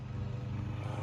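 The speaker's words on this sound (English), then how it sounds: "Sorry for the lawnmower in the background" A lawnmower engine drones steadily in the background outdoors, a low, even motor hum without pauses across the short stretch.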